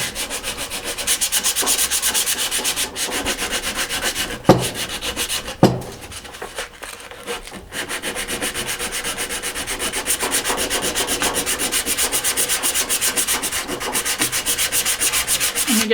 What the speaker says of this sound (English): we're going to hit the dowels with a little bit of sanding